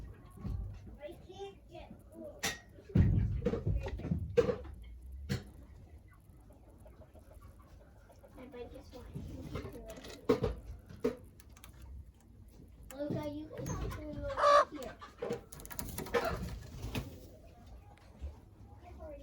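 Meat chickens in a low-roofed mobile coop cluck softly and intermittently on a spring farm, close but fairly quiet, with scattered knocks and a person talking over them.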